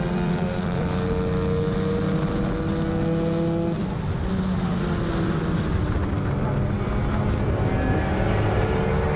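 Racing motorcycles in the 250/300/Moto3 class, including a Honda 125, run on a racetrack. Their engines make a continuous loud, droning whine whose pitch rises and falls as they shift gears and pass.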